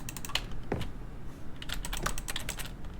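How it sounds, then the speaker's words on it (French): Computer keyboard typing clicks in The Stanley Parable, a steady run of quick, crisp keystrokes close up and moderately loud, with no talk over them. "Ça, c'est un clavier d'ordinateur qui fait ce bruit-là."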